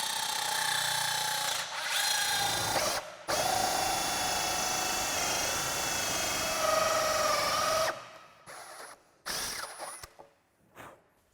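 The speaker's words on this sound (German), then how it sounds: "Hier, wo ich es mir markiert habe, bohre ich mir jetzt ein Loch, damit ich eine Führung habe für die Lochsäge." A power drill bores a pilot hole through wood at a marked spot on a camper van kitchen cabinet, guiding a hole saw for a heater vent outlet; steady loud whirring runs for several seconds, with shorter bursts and stops near the end.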